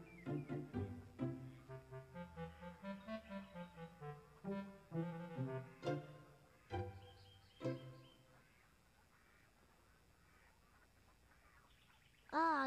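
Several ducks quack loudly in quick succession, harsh honking calls overlapping near the microphone, then a quieter lull before another burst at the end.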